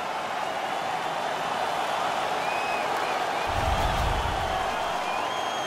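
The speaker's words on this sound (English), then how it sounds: "The home crowd is ecstatic. They're making all kinds of noise." Home crowd in the NHL 17 video game roaring steadily after a hockey fight, a dense continuous wash of cheering and noise with a brief low thump midway, no talk over it.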